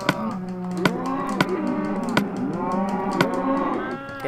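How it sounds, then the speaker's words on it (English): Minecraft cows moo loudly and repeatedly, overlapping drawn-out calls punctuated by sharp clicks, heard up close with no talking. "these fucking cows are so loud"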